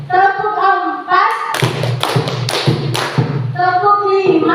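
A group claps a rhythmic spirit clap in a teachers' positive-culture training session, a short run of sharp, loud claps in counted bursts framed by an adult's voice before and after.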